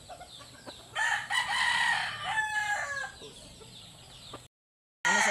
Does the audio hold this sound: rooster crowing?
yes